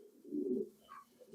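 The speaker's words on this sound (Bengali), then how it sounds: "এখানে একটা মেল কবুতর," A male fancy pigeon at a pigeon farm gives a single soft, low, throaty coo that swells and fades, followed by a faint higher note, in a quiet setting.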